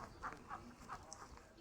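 Several short quacks from a farm duck come in a loose sequence over quiet outdoor background noise, fairly faint and somewhat distant.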